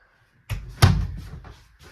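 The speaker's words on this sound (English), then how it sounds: "And then your door just has these locks, and then it slides, and then you can lock it that way." The sliding bathroom door of a 2023 Crusader 335RLP RV is pushed along its track, giving a couple of close wooden knocks and a short rumbling slide.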